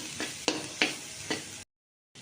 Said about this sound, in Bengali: কপিটা একদম ভালো করে ভাজা আছে, ভালো করে মিশিয়ে নিলাম।